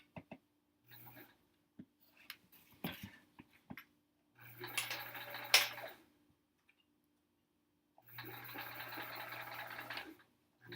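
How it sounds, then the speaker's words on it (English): A sewing machine back-tacks through quilt seams in separate runs of fast stitching, each lasting one to two seconds, with quiet pauses and faint handling noises between them. "I'm gonna just back tack it though."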